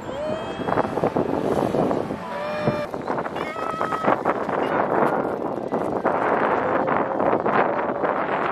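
Wind blowing steadily along the Tamsui River in Taipei, a continuous broadband rush buffeting the microphone throughout, with people talking and exclaiming over it.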